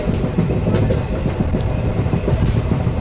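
Steady rumbling clatter inside an Indian railway train running from Farrukhabad to Shikohabad, loud and continuous with faint rhythmic wheel clicks, no voices.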